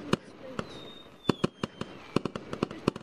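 Fireworks in the video game Gorilla Tag pop and crackle in a rapid irregular series of sharp bursts, fairly faint, with a whistling rocket trail rising in between.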